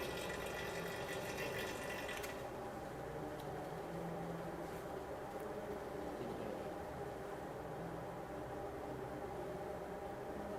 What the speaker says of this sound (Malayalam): വെള്ളം തിളയ്ക്കുന്നുണ്ടല്ലേ